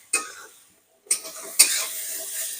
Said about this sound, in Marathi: गिलकेही परतून घ्यायचे.